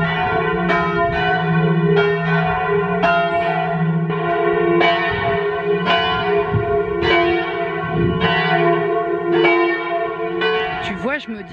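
Church bells on the Plateau-Est peal loudly and close by, with repeated strikes every second or so over a dense, sustained ringing hum that continues throughout.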